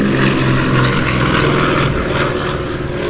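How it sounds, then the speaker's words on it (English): A propeller airplane passing overhead at an air show, a loud sustained engine drone with a throbbing buzz that swells and then eases slightly as it goes by, with no talk. "There goes another fantastic plane overhead."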